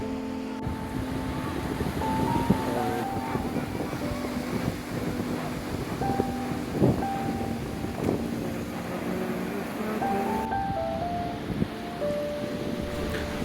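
Sea waves roll onto the beach at Cox's Bazar with a fishing boat nearby, making a continuous low wash of surf mixed with wind buffeting the microphone. Faint tonal sounds drift in and out over it.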